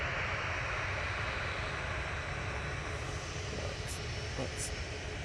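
Ryanair and TUI jets taxiing at Manchester Airport, a faint steady engine hum at a distance with a couple of brief high chirps near the end, and quiet talk underneath.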